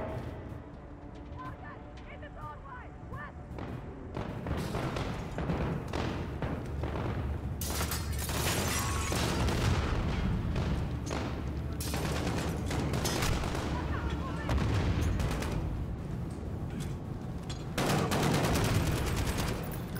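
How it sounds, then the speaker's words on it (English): A cylinder-loading shotgun sounds in Call of Duty: Modern Warfare, with a quieter stretch of clicks and handling first, then loud, dense gunfire and booming blasts that continue almost without pause. A voice talks over the shooting. "you don't really see this specific type of shotgun very often in games"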